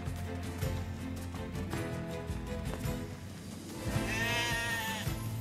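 Sheep in the Nier Replicant game bleat in wavering, nasal calls over steady background music, with a longer, louder bleat near the end.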